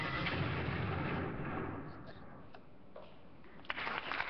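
Explosions from the Missile Command video game: a loud, dense rumbling blast that slowly fades, with faint ticking and small pops near the end.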